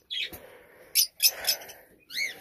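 Short quail calls come in a few separate bursts, sharp chirpy notes with brief pauses between them, close by and fairly quiet.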